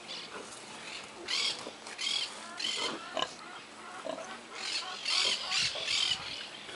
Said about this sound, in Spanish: La mamá chancha.